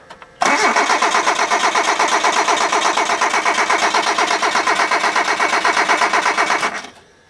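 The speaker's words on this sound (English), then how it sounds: "Maybe she'll crank over now." A Hyundai car's wet engine cranks over without ever catching. A loud, rhythmic starter chug runs evenly for about six seconds, then winds down and stops.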